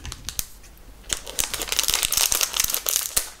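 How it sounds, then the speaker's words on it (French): A small plastic bag holding little gold craft pieces is opened close up, with crisp crinkles and clicks turning into a louder rustling burst midway, without talk. "Et là, on va ouvrir le sachet."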